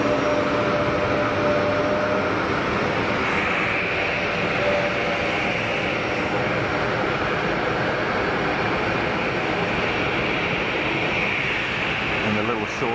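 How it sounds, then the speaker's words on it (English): A Swiss Airbus A220 passenger jet arriving at Geneva Airport, heard as a steady, loud broadband roar that holds evenly throughout, with voices talking faintly underneath. "the little shorty Swiss 220 that we just saw arrive"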